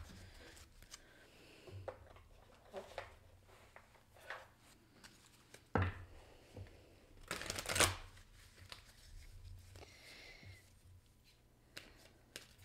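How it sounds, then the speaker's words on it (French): Oracle cards being shuffled by hand, a quiet papery riffling with a few louder bursts of card noise, heard alone without speech. "je vais prendre une carte oracle de Delft"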